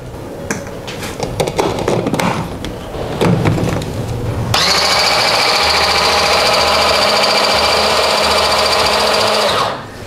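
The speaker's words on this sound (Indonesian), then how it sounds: "Dan kita chop, supaya potongan kelapanya lebih halus lagi." An electric food chopper whirs loudly and steadily for several seconds as it chops grated coconut with lime and bay leaves, after a few clattering knocks and bumps of kitchen handling, then stops abruptly.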